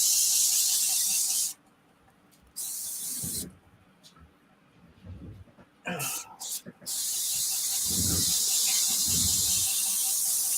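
Airbrush spraying in hissing bursts while being cleaned out: broad steady hiss that cuts off and resumes several times, with quiet handling noises in the gaps.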